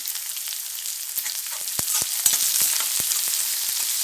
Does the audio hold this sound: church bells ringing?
no